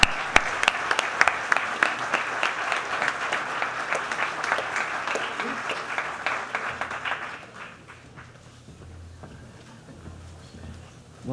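Applause from the audience at the 2009 Latin Grammy nominations event at The Conga Room, dense and steady for about seven seconds, then thinning to scattered faint claps over a quiet room.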